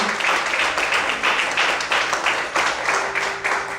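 A church congregation claps in praise, the dense applause pulsing with uneven swells, close and fairly loud, holding steady throughout with no voices rising above it.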